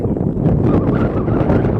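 Wind gusts steadily across a lake in the Barda Hills, a constant roaring rush that buffets the microphone with no break.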